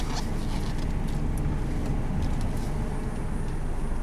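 A Honda car with hard-shifting drivability trouble pulls away from a stop and goes from first into second gear, giving a steady, loud low engine and road rumble from inside the cabin with no talking.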